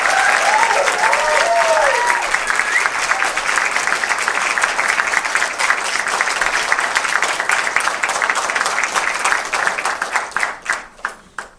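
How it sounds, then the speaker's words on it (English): An audience applauds after an evening Indian Kathak dance performance, dense sustained clapping with a few cheers early on, thinning out to scattered claps at the end. "Can we give them one more round of applause"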